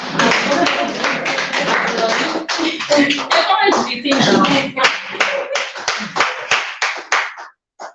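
People clapping at a business talk, a quick run of sharp, close hand claps that thins into separate spaced claps toward the end, with some speech mixed in.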